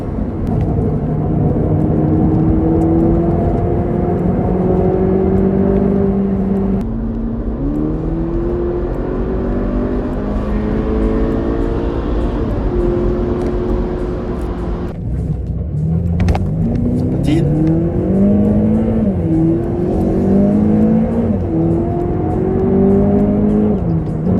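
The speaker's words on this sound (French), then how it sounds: "On entend bien le moteur, ça fait un bon bruit." A 2011 Volkswagen Polo GTI hatchback engine revs hard and accelerates through several gear changes, its pitch climbing and dropping repeatedly, loud and close throughout.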